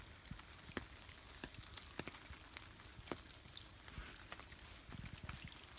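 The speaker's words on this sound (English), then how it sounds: "Just gone for a bushwalk to enjoy the rain" Steady rain patters on leaves and ground during a bush walk on the outskirts of Sydney, with scattered sharper drips standing out from a continuous soft hiss.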